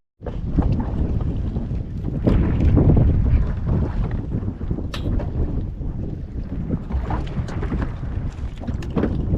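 Strong wind buffets the microphone in loud, gusty roars, with water and boat noise mixed underneath.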